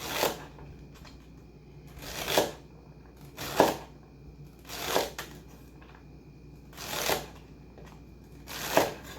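A knife chopping celery into small pieces on a cutting board, six or so crisp crunching cuts spaced about a second and a half apart, close and clear against a quiet background.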